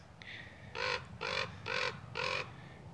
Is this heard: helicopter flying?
no